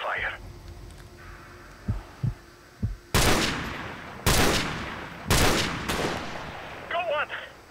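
Gunfire in the Call of Duty 4 Modern Warfare Remastered campaign, a few faint distant pops followed by four loud, close bursts of shots spaced about a second apart, then quieter clattering at the end.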